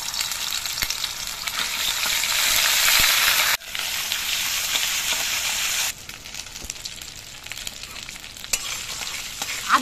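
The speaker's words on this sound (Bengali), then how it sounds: "ফোড়নটা ভাজা হয়ে যাওয়ার পর এর মধ্যে হাফ চামচ আদা বাটা দিয়ে দিচ্ছি।" Half a spoon of ginger paste fries in mustard oil over bay leaves, dried chillies and panch phoron, giving a loud, close, continuous sizzle with stirring, which drops to a gentler hiss twice.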